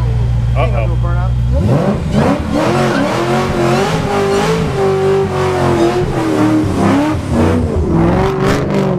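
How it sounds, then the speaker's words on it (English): Loud engine roar from a Gen 2 Ford Raptor truck doing a burnout, revving hard and sustained with tire noise, while voices talk and shout over it. "Uh-oh. Burnout."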